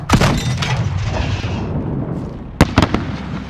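Explosions and blasts in the Call of Duty Modern Warfare US Embassy siege battle, a dense rumbling barrage with a sharp loud burst near the end followed by quick cracking pops.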